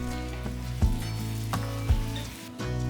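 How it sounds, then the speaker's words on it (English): Carrots and peas being stirred and coated in hot oil in a pan, a close, steady sizzle with a few soft scrapes of the spoon. "add the carrots and peas together and mix and coat them"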